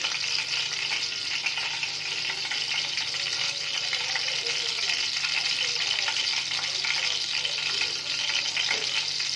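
Hot oil sizzles and crackles steadily in a pan being heated to fry onions and green chillies for a spiny gourd and raw prawn curry, a close, continuous hiss with no talking.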